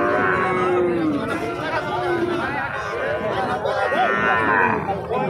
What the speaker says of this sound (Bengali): আরে জাহির ভাই, এখানে অনেক ছোট ছোট গরু বাছুর রয়েছে, আপনারা চাইলে এখানে এসে ট্রাই করতে পারেন